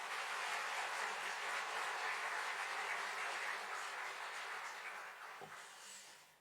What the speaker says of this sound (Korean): 우리 격려의 박수 한번 드리도록 하겠습니다.